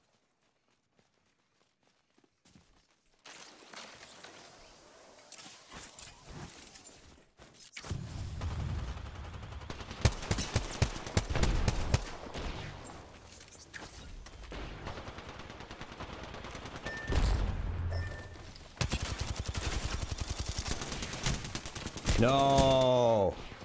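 Gunfire in an Apex Legends video game fight, with rapid bursts of automatic weapon fire and single shots coming in clusters after a quiet start, plus footsteps and other game effects and brief talking from players.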